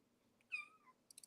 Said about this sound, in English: she's meowing for food